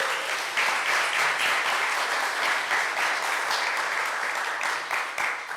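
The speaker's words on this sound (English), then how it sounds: "A round of applause." Full, sustained applause fills the hall at an anniversary gala as the audience claps steadily and loudly from start to finish, with no talking over it.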